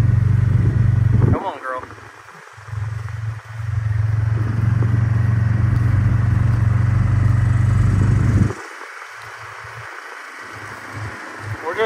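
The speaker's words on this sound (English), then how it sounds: "Just driving backwards right now." A vehicle backs up slowly across a farm, its steady low engine drone running under intermittent talk, with brief pauses and clattering.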